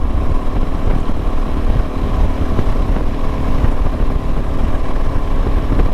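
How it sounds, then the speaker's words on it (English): A Suzuki DRZ400 dirt bike engine with a Rekluse clutch idles steadily, a loud constant rumbling putter with no pauses or revs. "the bike idling fine"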